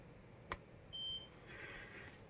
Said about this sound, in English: that little beep just tells me that is just a confirmation that I did shut the remote off